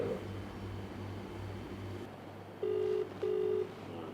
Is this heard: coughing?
no